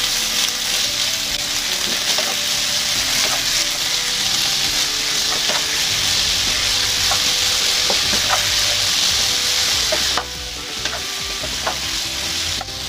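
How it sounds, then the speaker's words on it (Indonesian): Cucumber stir-fried in a pan with fragrant sautéed aromatics gives a constant loud sizzle, with scattered light scrapes and taps of a utensil stirring close by. "lalu masukkan timun. Ditumis-tumis sebentar dulu."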